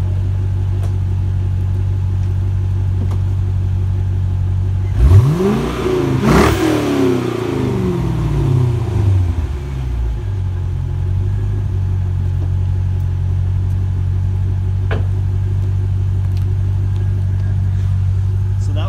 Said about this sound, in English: I'll do a quick little rev up for you so you can hear the sound.